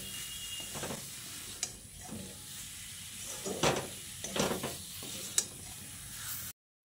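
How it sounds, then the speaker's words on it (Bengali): A spoon stirs potatoes with ground spices in a pan, giving soft scraping and gentle sizzling strokes at an irregular pace, fairly close but low in level. "গুঁড়ো মশলাটা দিয়ে আলু ও মশলার সঙ্গে আরও একবার ভালো করে নেড়েচেড়ে মিশিয়ে নিচ্ছি।"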